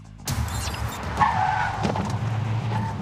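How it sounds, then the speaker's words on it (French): A Volvo EX30 Twin Ultra compact electric city car skids on a test obstacle, a sudden burst of tire squeal and scrubbing that starts abruptly and carries on loud and close, with a brief knock in the middle. "Il y a même une roue qui a barré, qui a fait que le pneu a fumé, littéralement."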